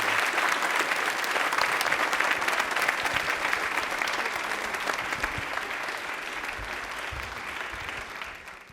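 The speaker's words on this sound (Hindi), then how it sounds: "तालियां जोरदार बजाएं इनके लिए।" A television quiz show audience claps steadily and loudly for a contestant's correct answer, with the applause tapering off near the end.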